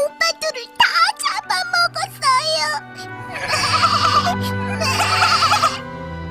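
In an animated fairy tale, a voice imitates a baby goat, whimpering and sobbing in wavering, broken cries. Tinkling music follows, rising up close.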